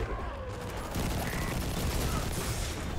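Minigun fire from an enemy in the video game Destiny 2 rattles as a dense, unbroken stream of rapid shots, loud and continuous throughout.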